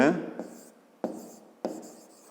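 Pen strokes on paper during a fifth-grade maths lesson on angles, with three distinct scratchy writing bursts, close and fairly clear; no one talks over them.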